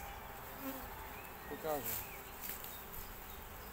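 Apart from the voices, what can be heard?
honey bees buzzing at hive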